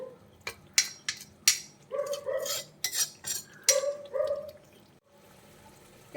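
A spoon stirs a pot of fish curry made with coconut milk, giving a series of close metallic scrapes and clinks in an uneven rhythm, with soft liquid sloshing between strokes and a brief pause near the end.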